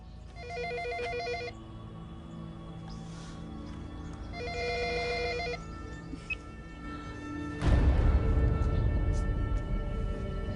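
An old-style telephone bell rings in two bursts with a pause between them, each a bright, rapidly trilling double ring heard fairly close. A louder, broadband rumble of room noise or movement takes over toward the end.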